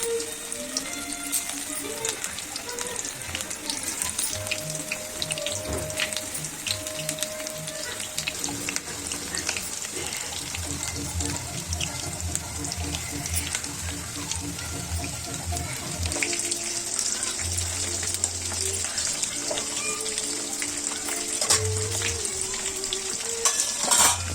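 Chicken pakodi pieces fry in hot oil at street-style intensity, a dense continuous crackling sizzle with bursts of bubbling as pieces drop in, plus intermittent clinks and stirring, close and steady throughout.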